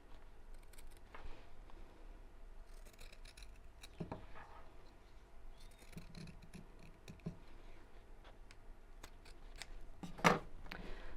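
Scissors snip through fabric in a run of quiet, irregular crisp cuts close by, with one sharper snip near the end and no speech.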